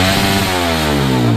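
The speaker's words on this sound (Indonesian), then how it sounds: "Udah mantap, dari suara mesinnya ngisi ya" A bored-up Honda CRF 150 motorcycle engine revs loud and close, with a buzzing tone that climbs steadily in pitch over a short burst.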